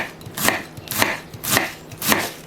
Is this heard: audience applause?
no